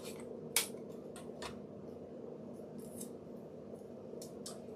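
Scissors snip through a paper piece for a gingerbread girl door hanger craft, several quiet crisp cuts spaced irregularly over a low steady room hum.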